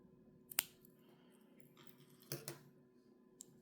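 Scissors snip crochet yarn flush to an invisible knot, with two crisp close cuts and a light tap at the end against a quiet background.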